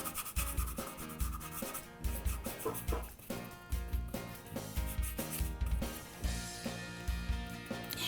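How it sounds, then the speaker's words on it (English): A flat brush scrubs blue paint onto a canvas in quick rhythmic back-and-forth strokes, a dry raspy rubbing that repeats steadily and close for about eight seconds. "we're just going to scrub this right up to that horizon line here"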